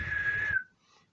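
A CRT 6900 N CB radio carries a steady, clear whistle tone for about half a second before it cuts off, leaving faint hiss.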